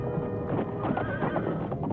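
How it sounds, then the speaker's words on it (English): Horse hooves clip-clopping in a fast rhythmic gallop, with a horse whinnying over the pounding, fairly close and loud. "You hear that? The horse coming up the gallop."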